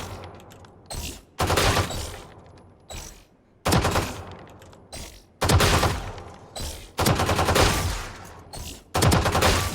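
Gunfire from the shooter game Valorant comes in short, loud bursts of rapid shots, about seven separate bursts with brief quiet gaps between them.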